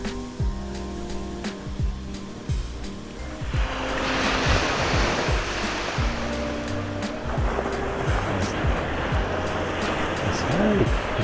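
Sea waves washing onto Kata Beach in Phuket, a steady broadband surf wash that swells louder partway through, mixed with a low droning engine in the background.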